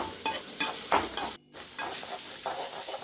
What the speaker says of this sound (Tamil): அந்த கடலைப்பருப்பு வந்து இந்த எண்ணெயிலேயே போட்டு நல்லா வந்து வதக்கி விடணும்